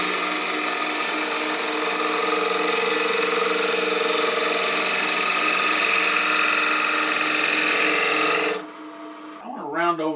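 A power tool rounds over the edge of a wooden napkin holder, giving a loud, steady high whine for about eight seconds before cutting off abruptly. A brief voice follows in the quieter tail.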